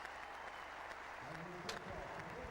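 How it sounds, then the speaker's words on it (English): Cricket crowd applauding at a Test match between New Zealand and England, steady broad clapping from a packed ground as fans rise for Andrew Flintoff's first Test century, with a commentator's voice over it. "Every cricket fan on the ground is out of their seat applauding this young man."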